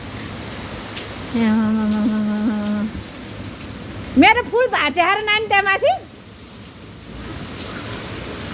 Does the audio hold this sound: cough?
no